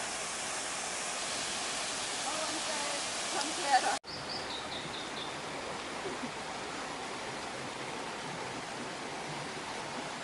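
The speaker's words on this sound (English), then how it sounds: "Beautiful waterfall. Look at that." Steady broadband rush of falling water fills the whole span, constant and fairly close, with a faint bird chirp partway through.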